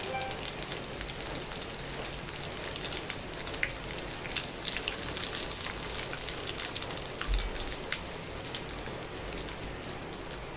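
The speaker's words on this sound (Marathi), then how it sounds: "कढीपत्ता तळून घेतोय." Curry leaves crackle and fry in hot oil for a spicy Kolhapuri bhadang snack, a steady soft hiss with scattered tiny pops throughout, close and moderately quiet.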